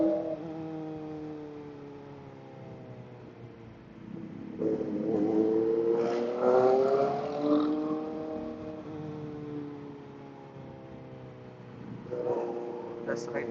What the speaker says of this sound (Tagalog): You would really appreciate the sound of ang inline 4 ng motor.